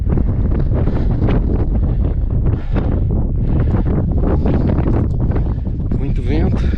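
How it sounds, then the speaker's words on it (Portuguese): Strong wind blows across the summit of Pico da Lapinha at dawn, buffeting the microphone in loud, gusty rumbles that rise and fall continuously. "Muito vento."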